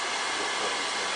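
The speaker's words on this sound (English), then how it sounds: "I'm trying to speed this up with the hairdryer" A hair dryer blows steadily to dry paint on a scale model at a model club meeting, a loud, even broadband whoosh running alone the whole time.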